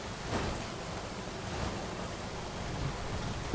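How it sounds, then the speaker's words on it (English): Steady rain in the video game Death Stranding hisses in a dense, even wash with a low rumble underneath, continuous and fairly close, with no voices. "Unfortunately, it is raining here."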